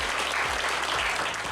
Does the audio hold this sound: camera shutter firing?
no